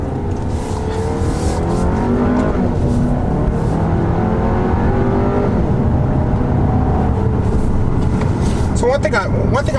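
A 2018 Volkswagen Tiguan SE 4Motion cruising at about 50 mph, a steady engine hum and tire rumble heard from inside the cabin, with someone talking over it throughout.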